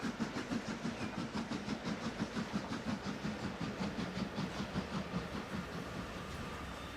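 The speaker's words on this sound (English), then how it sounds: "Let's check this train coming in for 306." A train runs on rails in the railway game YorkshireLand, a steady rhythmic clickety-clack of wheels over rail joints repeating evenly for several seconds, fairly quiet and close, with no talking.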